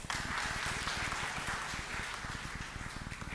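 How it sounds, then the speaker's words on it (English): An audience at a live conference claps hands in a steady, dense patter, close and fairly loud throughout, with no talking over it. "So can we clap more hands?"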